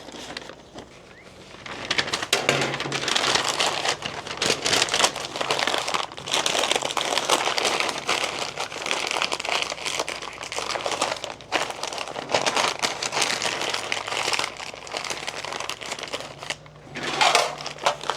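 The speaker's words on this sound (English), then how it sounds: "Got a little butcher paper here with a little beef tallow" Butcher paper softened with beef tallow crinkles loudly and continuously as it is folded around smoked cross-cut flanken beef ribs, close and busy with brief pauses.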